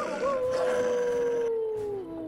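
A wolf in the fantasy video game Dragon Age: Origins lets out one long, sustained howl that slowly falls in pitch, loud and close, with game ambience behind it.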